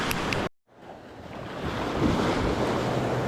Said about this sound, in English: I'm not too sure I want to get myself stuck anywhere with the water and wave action this rough today